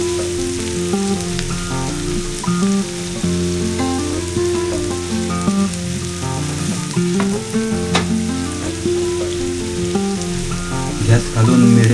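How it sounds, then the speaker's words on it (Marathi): Onion fries hard in a kadhai, a loud continuous close-up sizzle with faint background music and occasional small crackles throughout. "हा आपल्याला कांदा आहे तो चांगला पिवळा होईपर्यंत आपल्याला या कढईमध्ये फ्राय करून घ्यायचं आहे मस्त"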